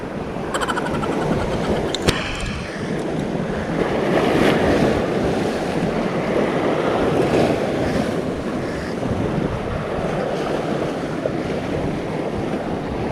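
Choppy lake waves wash and slosh steadily around a small fishing boat, with constant wind buffeting the microphone.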